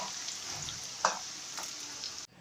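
Moong dal frying in oil, a steady soft hiss with light stirring clicks, close but faint, cutting off abruptly just before the end.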